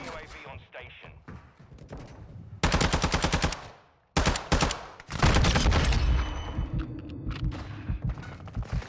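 Rapid bursts of Hemlock rifle fire in Call of Duty MW2, loud and close, split into several sustained strings of shots with brief pauses between them.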